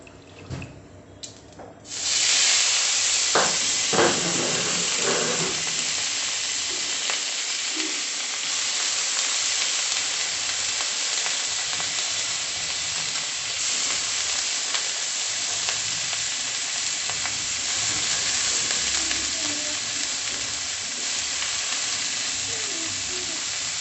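Soaked drumstick leaves hit hot oil with panch phoron, bursting into a loud, steady sizzle that carries on for over twenty seconds with faint scraping of a spoon.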